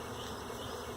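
Many bees buzz at an opened hive brood box during an inspection, a dense, steady drone filling the whole moment, loud and close with no talk over it.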